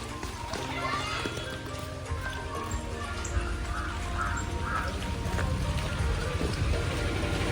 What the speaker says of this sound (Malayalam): നല്ല മഴ ചെയ്തിട്ടാ.